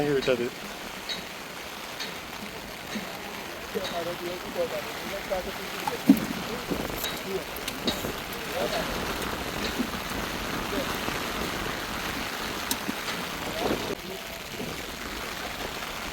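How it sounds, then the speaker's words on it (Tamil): Steady rain patters on water and a boat while fishing, a continuous soft hiss with scattered drop hits and occasional knocks, heard alongside people talking. "அரை மணி நேரம் மழை விட்டது திரும்பவும் மழை ஆரம்பம்"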